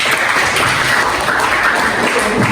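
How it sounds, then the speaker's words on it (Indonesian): Group applause from participants at the end of a classroom training session, a steady, continuous wash of clapping at even loudness for the whole stretch, with no voices over it. "Sekali lagi tepuk tangan untuk kita semua"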